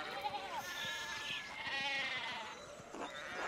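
Sheep in the video game Pentiment bleat repeatedly, with several overlapping wavering calls close by and a faint voice in the background.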